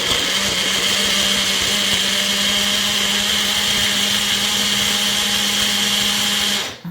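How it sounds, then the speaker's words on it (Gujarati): A kitchen mixer grinder crushes ingredients for homemade sugarcane-style juice made without sugarcane, running as a loud, steady whir with a constant motor hum throughout, then cutting off abruptly at the end. "હવે બધું સરસ રીતે મિક્સરમાં ક્રશ કરી લઈએ"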